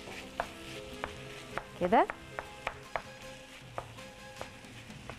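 Minced meat frying in a little oil in a pan is stirred with a utensil, giving a steady soft sizzle punctuated by regular light taps and scrapes, with a brief spoken word.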